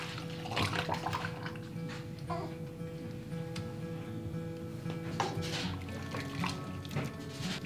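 Curry pickling brine is poured into jars packed with cauliflower and peppers, a steady liquid trickle and splash under a constant low kitchen hum, with no talking.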